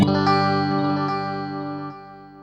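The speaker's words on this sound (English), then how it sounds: "the vintage factor shows you the difference of a non-tape delay, which would be this sound" A guitar note rings through a non-tape delay pedal, its clean repeats echoing evenly and decaying smoothly over a couple of seconds, loud and close with no talking.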